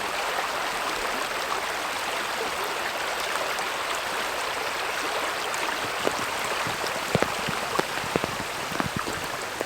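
Water flows steadily through a creek in rainy woodland in Southern California, a dense continuous wash with scattered raindrops pattering and ticking close by, especially in the later seconds, with no voices.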